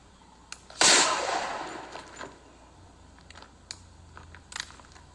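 A single loud, sharp gunshot from an accidental self-inflicted shot cracks close by and rings off, followed by a few faint clicks and knocks.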